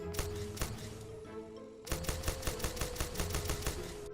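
A powerful modded gun firing in the sandbox game People Playground, a few sharp shots and then a fast rapid-fire burst of loud, close bangs, with little else around it.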